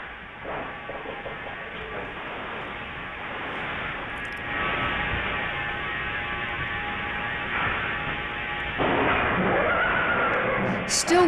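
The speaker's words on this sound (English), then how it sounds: "Now listen to the whinny." A wild horse whinnies, with a faint, noisy call rising over a steady background hum and a louder burst near the end.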